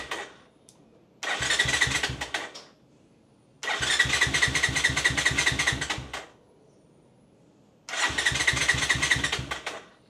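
A Rouser 180 motorcycle engine that will not start cranks over in three loud, rapid bursts of chugging starter noise, each lasting about two seconds, separated by quiet pauses.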